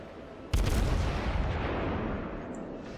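A single heavy naval gun salvo booms loudly from a cruiser in World of Warships, a sharp blast followed by a long rumbling tail fading over a few seconds.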